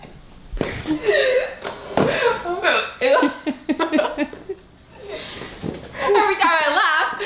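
A girl hiccups repeatedly while laughing, sharp hiccup jolts breaking up her giggles and chuckles at close range, with other voices talking and laughing around her throughout.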